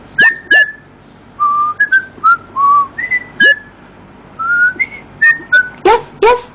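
A parrot gives a series of clear, loud whistled notes, some rising and some falling, in short separate bursts with brief pauses between them.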